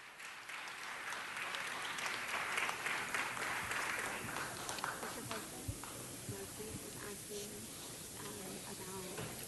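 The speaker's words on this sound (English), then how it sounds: "One more round of applause." A city council meeting audience applauds, a broad wash of clapping that thins out toward the end, with some talk mixed in underneath.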